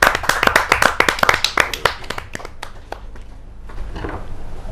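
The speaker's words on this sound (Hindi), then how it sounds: "जोरदार ताली के साथ हम उनका स्वागत करें" An audience at a Hindi poets' gathering claps to welcome a poet, sharp close claps in a quick rhythm that thin out and fade into a quieter murmur.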